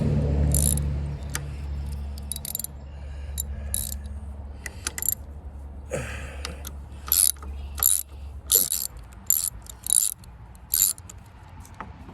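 Seized pulley on a Wisconsin engine being worked free for a skid loader, giving a run of sharp mechanical clicks and ratcheting knocks, sparse at first then quicker and louder, over a low steady hum with no talk.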